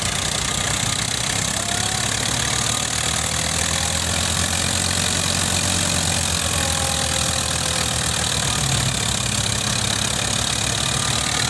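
A Fiat 640 tractor engine powers a wheat thresher working damp wheat, a loud, steady close-up drone with a knocking mechanical chug that holds constant throughout, mixed with the thresher's broadband rushing noise.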